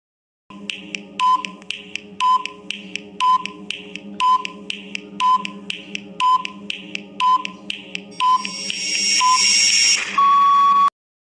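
A classroom countdown timer gives a regular series of about ten short electronic beeps roughly one second apart, then ends in a longer, louder continuous alarm tone.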